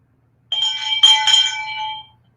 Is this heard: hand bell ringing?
yes